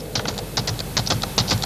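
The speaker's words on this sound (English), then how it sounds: "I can either input the notes onto the virtual score on the screen by this typewriter pad here" Notes are tapped out on a computer typewriter pad for Sibelius notation software. The keys click in quick irregular bursts at close range, with no talking.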